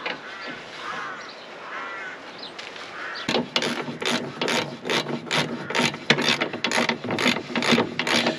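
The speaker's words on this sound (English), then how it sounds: "Battery powered ratchet." A battery-powered ratchet at work on a V8 recovery truck, loud rapid whirring bursts and clicks in quick repeated pulses after a quieter stretch with faint bird calls in the background.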